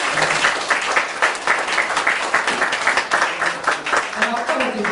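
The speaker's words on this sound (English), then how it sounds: "Please give her a applause." Audience at a Lions club appreciation event applauds steadily throughout, a dense, sustained wash of many hands clapping at close to moderate distance with no pauses.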